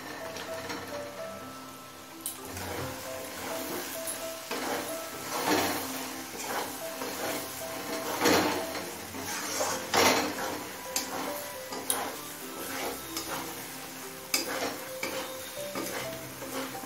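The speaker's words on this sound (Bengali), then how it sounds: "আলু দিয়ে মশলার সাথে মিনিট দিয়ে কষিয়ে নিলাম।" Fried potatoes are stirred with spices and cashews in a pan, with irregular scrapes and clinks of a spoon against metal over a soft sizzle and no talk.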